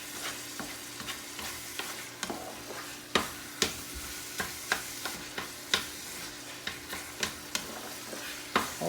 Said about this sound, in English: You just continue to stir, and this doesn't take long for everything to cook out.